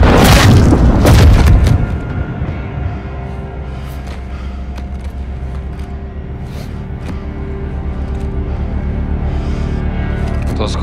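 A loud explosion in the video game Call of Duty: Modern Warfare II (2022) bursts at the start, then gives way to a low rumbling drone with faint background noise.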